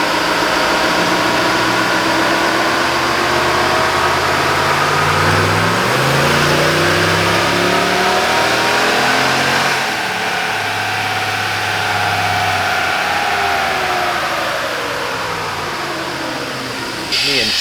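Revving hard on a dyno in 6th gear with no load, a 2019 Ram Pulsar truck engine rises and falls in pitch, loud and sustained, the sweep repeating as it builds again.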